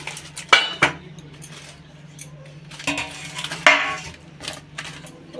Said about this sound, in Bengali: তারপর একটা থালা দিয়ে ঢেকে আমি পাতাটাকে উল্টিয়ে নিচ্ছি।